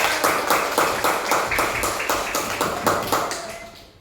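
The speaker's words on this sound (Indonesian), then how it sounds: "Ya, tepuk tangan untuk kita semua." A class claps hands in a classroom, a fast rhythmic run of about fifteen even claps, near and moderately loud, tapering off at the end.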